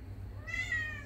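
A Bengal cat gives a single short, clear meow in a dining room, rising over a low steady background hum.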